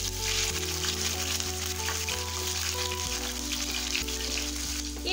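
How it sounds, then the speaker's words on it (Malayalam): Cut okra pieces fry in hot oil for a Kerala sambar, a loud continuous crackling sizzle close by with light popping and stirring, and a low steady hum underneath, no speech. "ഈ എണ്ണ നന്നായിട്ടൊന്ന് ചൂടായാലും നമുക്ക് ഇതിലേക്ക് അരിഞ്ഞു വെച്ചിട്ടുള്ള വെണ്ടയ്ക്ക ചേർത്ത് കൊടുക്കാം"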